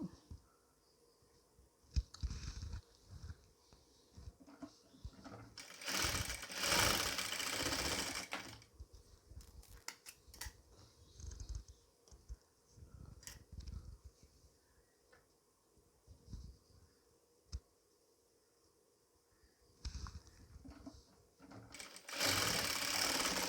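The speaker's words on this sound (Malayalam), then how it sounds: "ഒരു കാലിഞ്ച് അകലത്തിൽ തയ്യൽ തുമ്പിട്ട് അടിച്ചു കൊടുക്കുക" A sewing machine stitches the cross piece of nighty fabric in several bursts of rapid mechanical whirring, loud and close, separated by quieter pauses with small handling clicks and rustles.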